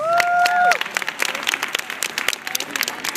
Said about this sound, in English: a nice round of applause for the volunteers